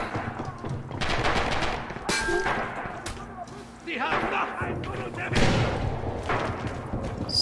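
Bursts of automatic and rifle gunfire in the WWII shooter Red Orchestra 2, sharp cracks and rattling volleys mixed with distant thumps of battle, loud and continuous across the stretch with a player's voice talking intermittently.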